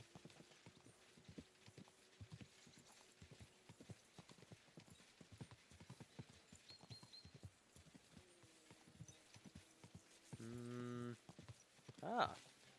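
Horse hooves clip-clop steadily on the ground in the video game Kingdom Come Deliverance 2, quiet and close, with a brief tonal whinny-like sound near the end.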